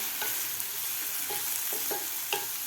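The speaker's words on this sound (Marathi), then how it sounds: "टोमॅटोसुद्धा आपल्याला व्यवस्थित हे सॉफ्ट होईपर्यंत परतून घ्यायचं आहे" Tomatoes stir-fry in a hot pan for a village-style drumstick masala curry. A steady, bright sizzle runs throughout, broken by several scraping strokes of a spatula stirring close by. No voices are heard.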